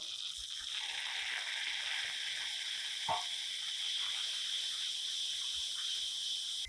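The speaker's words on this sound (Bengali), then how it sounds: "সামান্য একটু জল দিয়ে ভালো করে মশলাটা কষে নেব" A spice paste of turmeric, chili and cumin frying in a pan with a little water makes a faint, steady hiss, with one brief clink partway through.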